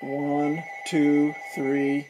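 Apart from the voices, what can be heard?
telephone ringing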